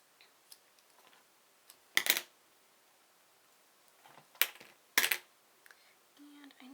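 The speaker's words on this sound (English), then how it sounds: "I'm going to take some scissors and just snip these little tails off" Scissors snip small ribbon tails off a handmade balloon birthday card, giving three sharp close cuts spread across quiet table handling and faint rustles.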